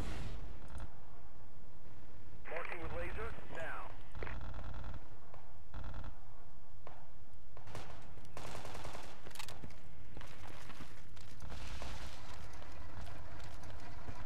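Bursts of rapid automatic gunfire ring out in a desert infantry battle in the military shooter Project Reality, with dense overlapping volleys and sharp clicks filling the fight.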